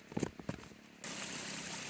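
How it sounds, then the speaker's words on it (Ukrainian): Water filling a container outdoors at a camping site. A few faint trickles and splashes give way to a steady, close rush of running water that continues to the end. "Набираємо водичку."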